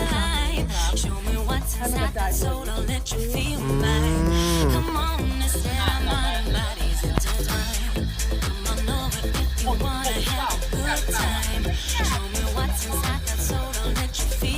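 Cattle on a farm give a drawn-out moo near the middle, heard over busy clattering and rustling farmyard noise that runs throughout.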